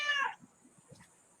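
A cat gives a single short, fairly close meow, followed by faint, quiet room noise.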